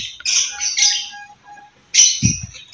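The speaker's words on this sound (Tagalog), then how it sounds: "So sinisilip ko yung yung mga ibon ko dito" Pet birds squawking loudly near a cobra that got into their enclosure, with harsh bursts at the start and again after a short pause, plus a low rustling thump toward the end.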